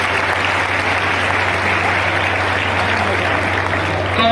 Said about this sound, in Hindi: आप ताली बजा के उनका स्वागत करिए